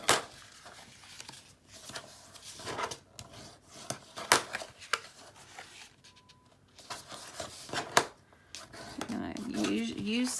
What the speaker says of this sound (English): we're going to go ahead and we're going to fold our creases